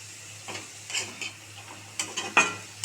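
Onion tempering for chana fry crackles in a pan, with intermittent spoon scrapes and light sizzling bursts, close and moderately loud, no voices.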